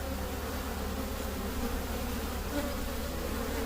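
Honeybees buzz around a hive in a steady, dense drone that stays close and unbroken throughout.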